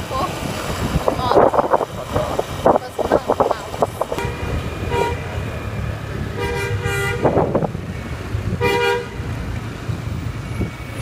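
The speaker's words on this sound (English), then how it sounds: "It took a while until we realized that this horn actually was for us" Car horn honking at riders on a motorbike heading to the airport in Bali, several short toots standing out over steady wind rumble and traffic noise.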